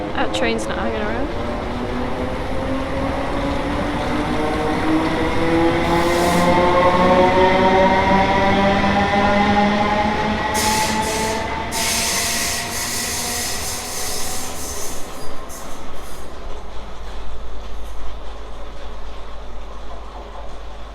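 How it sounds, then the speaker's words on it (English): A train passing fast through Manningtree station on the Great Eastern Main Line, a loud close rush of wheels with a rising and falling whine, steady roar throughout with bursts of rattling toward the end. "That train's not hanging around."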